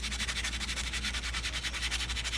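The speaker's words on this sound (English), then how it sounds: "I'm giving these little guys a light sand because they've got a lot of gunk build up on them" Light sanding of small plastic Lewmar winch pieces crusted with built-up gunk: a steady, rhythmic rasp of quick back-and-forth strokes, close and continuous.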